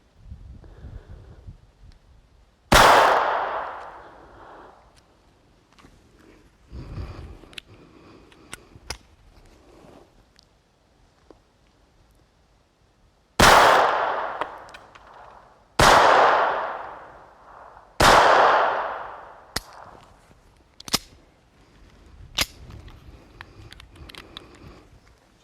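Shots from a Phoenix Arms HP25 pistol crack loudly, four big reports with long decaying echoes plus a few sharper, shorter bangs, separated by quiet pauses and small handling clicks.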